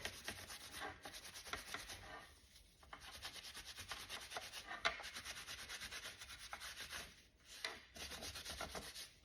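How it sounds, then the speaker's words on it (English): Baby wipes rubbed back and forth over chalk-style paint on a wooden snowshoe piece, giving a soft, steady scrubbing rasp with brief pauses, close but faint. "I'm going to take my baby wipes and start wiping it back."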